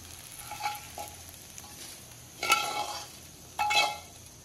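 A spice mix is dry-roasted in a pan, with a soft continuous crackle underneath and three distinct bursts of scraping and rattling as it is stirred, the last two louder and close by.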